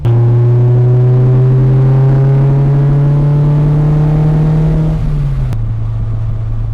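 A mid-engined Fiat X1/9 sports car revs up and accelerates steadily from a traffic light close by, the pitch climbing, then shifting gear and settling near the end.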